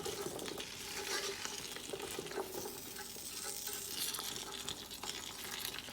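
A chicken fried rice mixture of vegetables and chicken is stirred in a large pot, a close, continuous sizzle with scraping and shuffling stirring strokes running evenly throughout.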